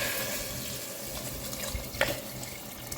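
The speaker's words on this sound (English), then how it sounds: "I can add the water" Water pouring steadily into a pot of sautéed onions for pea soup, a continuous rushing splash with slight gurgling variations throughout, close and fairly loud.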